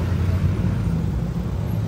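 Steady low rumble of road traffic crawling in a jam on a city street in Matandang Balara, continuous idling engine drone with no distinct passes.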